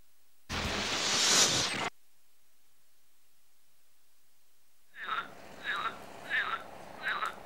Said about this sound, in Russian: Лягушки средней полосы.